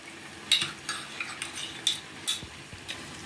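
Thick amla candy mixture being stirred while it cooks, a spoon scraping and tapping against the pan in several soft, irregular strokes with faint background noise.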